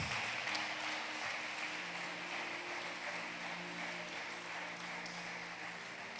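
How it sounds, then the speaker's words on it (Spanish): Broad, steady applause from a church congregation during a Sunday service fills the whole stretch, a dense wash of clapping with a faint tonal hum underneath. "¿Cuántos le pueden dar un aplauso a Jesucristo, el Hijo de Dios?"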